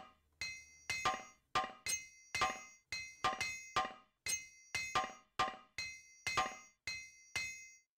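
Repeated metallic hammer clinks from armor repair in the Morrowind video game, about fifteen sharp ringing strikes in a steady rhythm, each with a short decaying ring, close and clear with no talking.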